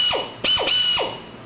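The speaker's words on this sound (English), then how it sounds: "Little air drill." A small pneumatic air drill pulled from a scrap air compressor setup gives three quick bursts, each a sharp hiss that sweeps downward as the air spins the motor down, close and loud with no talking.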